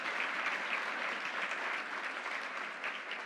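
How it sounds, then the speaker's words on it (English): An audience at a Troy government announcement claps steadily in a dense, even wash of applause, moderately distant, with no break. "Let's give a round of applause"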